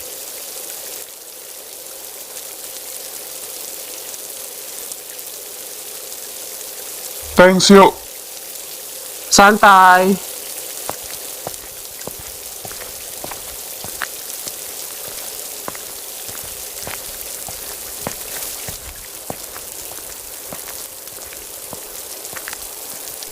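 Rain falls steadily with soft patter and scattered drop taps in Sakura School Simulator, continuing under two brief spoken voices.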